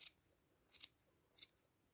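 Large scissors trim a wool pompom for an Easter sheep craft, a few quiet, crisp snips in quick succession.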